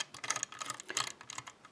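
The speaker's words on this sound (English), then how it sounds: "And I shuffle the wheels, and I don't look at it." The wheels of a three-wheel Tricycle combination padlock are shuffled by hand, making a rapid, close, faint series of small clicking and ratcheting ticks.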